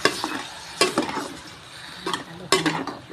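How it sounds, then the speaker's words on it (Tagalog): Onion and garlic being stirred for chicken tinola in a pot: loud, close ladle scrapes come in bursts over a light frying sizzle, with no speech. "Haluin natin."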